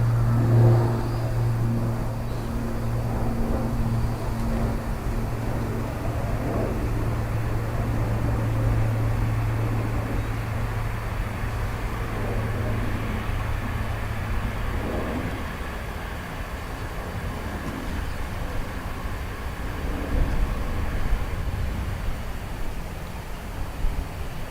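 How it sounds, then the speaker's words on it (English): A twin-engine ATR turboprop airliner on the far side of Dublin Airport, a steady broad engine roar with a low propeller drone that slowly fades, heard at a distance with no talk. "ATR opposite side first,"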